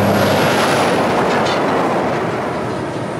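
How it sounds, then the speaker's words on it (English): A road train truck roars past on a highway, a loud, broad rushing wash that holds steady and then slowly eases, close by and without voices. "Yeah, here's a road train coming."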